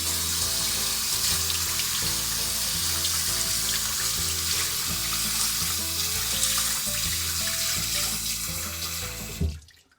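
A makeup brush being rinsed under a running tap, a steady loud rush of water splashing into a sink that continues without a break and then stops abruptly at the end.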